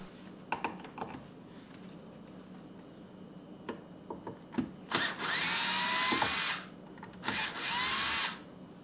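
A power drill backs a drywall screw out, starting with scattered clicks and taps before two loud whirring bursts of the motor spinning up, the second shorter, close by with no talking.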